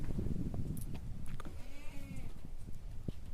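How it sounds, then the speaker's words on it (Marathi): A goat bleats in a wavering, drawn-out call midway through, over a steady low rumble of outdoor background noise. "शेळी"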